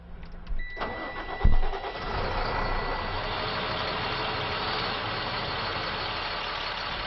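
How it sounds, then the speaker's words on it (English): A salt spreader truck's engine cranks and catches after a moment, then settles into a steady, moderately loud idle with the auger running at a slow setting. "have Matt start the truck and turn the auger on at very slow"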